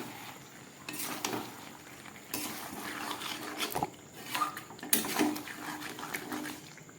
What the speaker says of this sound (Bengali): সব কিছু একসঙ্গে মিশিয়ে নেড়ে চেড়ে আমার রান্নাটা অনেকটাই হয়ে গেছে